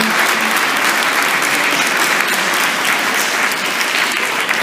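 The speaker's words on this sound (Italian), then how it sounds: "Qui facciamo un grosso applauso e salutiamo" Outdoor crowd at a memorial torchlight procession applauding to welcome a guest, an even, continuous round of clapping from many hands throughout.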